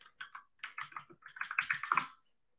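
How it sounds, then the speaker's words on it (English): A burst of quick, crisp keystrokes on a computer keyboard clicks close by in an uneven run of about twenty taps, thickening toward the end before stopping, with no voices. "Let's type in here and say"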